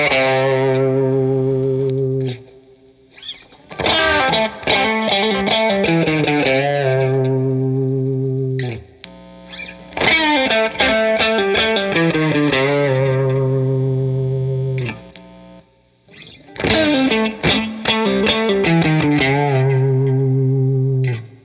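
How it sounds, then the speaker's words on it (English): A Fender American Standard Stratocaster electric guitar played on its bridge pickup sounds loud, distorted and close, strumming chord phrases in three bursts separated by short pauses, with a bright, effects-laden tone. "Let's switch back to the the Strat, and hear what that sounds like on all the pickups."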